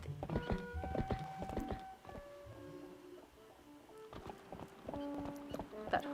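Horse hooves clip-clop at an unhurried walk in The Legend of Zelda: Twilight Princess, a soft irregular clatter over game music with sustained tones, moderately close.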